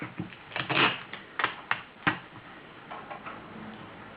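Sticky tape is pulled off a roll in a series of short, crackling rips, some quick and some drawn out, fairly close with no talking, while taping a sweets Christmas wreath.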